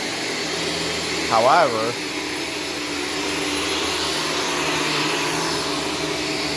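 A Shark Stratos vacuum cleaner runs steadily on low pile carpet, a loud continuous broadband motor whir that holds through the whole stretch, with a brief spoken word near the start.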